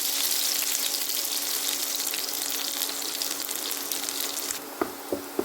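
Finely chopped garlic hits very hot oil for crispy chilli baby corn, a loud, steady hissing sizzle that runs throughout, followed by a few sharp utensil clicks at the end.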